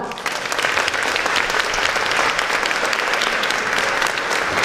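Dense, sustained applause from a large audience at a live musical Way of the Cross performance, a steady wash of many hands clapping at full volume throughout.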